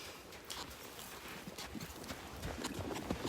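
Hooves of a horse cantering in a virtual horse game, a steady rhythmic clip-clop of repeated hoofbeats over a continuous background wash, moderately loud and without talk.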